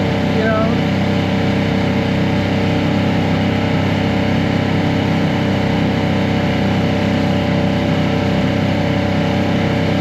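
An Evinrude 150XP outboard motor runs at low revs on a McKee Craft boat while losing power and sputtering. A steady, loud engine drone with a rough texture carries through the whole stretch, with wind or water noise mixed in.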